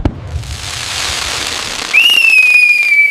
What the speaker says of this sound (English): Mom, the fireworks are over.